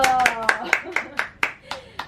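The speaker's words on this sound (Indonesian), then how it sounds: "tepuk tangan dong" Women in a group clap in unison at a training session on starting a small business, about nine sharp, evenly spaced claps over two seconds, with a voice speaking over them.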